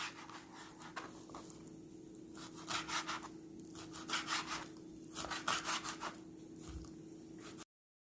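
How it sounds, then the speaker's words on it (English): A knife slices a squid head into strips on a cutting board, giving soft, close rubbing cuts in quick repeated strokes with brief pauses between bursts over a low steady hum. "now we're going to cut the head into little strips"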